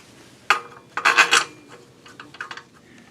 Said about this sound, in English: They go right here and just screw down in there like that, one on each side.